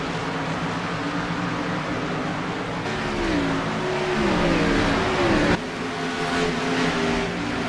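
NeoTransAm series race cars roar around Road America. A loud, steady engine drone rises and falls as the cars rev through their gears, with a sharp shift partway through and no talk over it.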